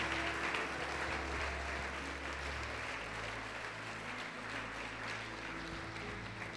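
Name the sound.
congregation applauding in church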